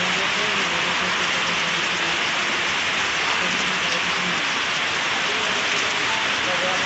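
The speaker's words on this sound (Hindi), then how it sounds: "ये देखिए बारिश कितनी तेज पड़ रही है" Heavy rain pours steadily in a Bihar village, a dense, unbroken hiss of water hitting surfaces nearby, with flooding on the road; the downpour stays loud and even throughout with no break.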